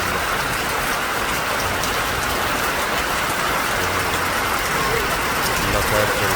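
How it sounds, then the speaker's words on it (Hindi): Heavy rain pours steadily in Kashmir, a dense, continuous hiss of drops hitting surfaces that stays loud and unbroken throughout, with no pauses in the downpour. "बड़ी तेज़ बारिश हो रही है।"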